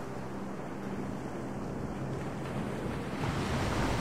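Ocean waves in Singapore port seen from aboard a ship, a constant rushing wash of water with some wind buffeting, swelling slightly louder toward the end, with no talk.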